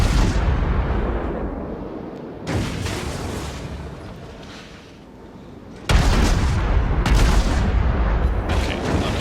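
Cruiser guns fire from a Cleveland in World of Warships, with heavy booming salvos at two points. Each volley is followed by a long rumbling decay, and a steady battle din carries on between the shots.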